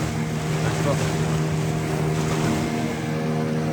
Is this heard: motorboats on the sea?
yes